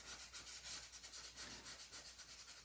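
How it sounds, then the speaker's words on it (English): Worn paintbrush bristles scrub back and forth across a painting surface in a rhythmic rubbing swish, very faint and close, with no voices. "I scrub like this with it. You see me scrubbing."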